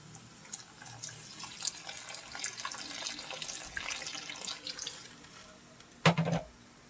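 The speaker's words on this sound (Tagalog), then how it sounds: "Lagyan na natin ating tubig na galing sa thermos para madaling kumulo." Hot water pours from a thermos into a cooking pot while sponge gourd is prepared, a steady watery splashing running for several seconds before a brief louder thump near the end.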